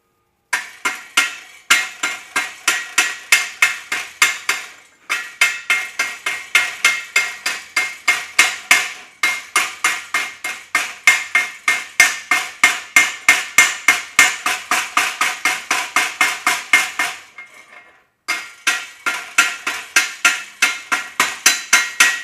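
A hammer chips slag off a practice stick (SMAW) weld in rapid, sharp metallic taps, dozens of close, loud strikes in bursts with a few brief pauses.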